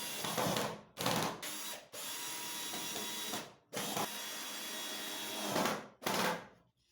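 Power drill driving screws into a wooden French cleat module, in several loud close whirring bursts of one to two seconds each, separated by brief pauses.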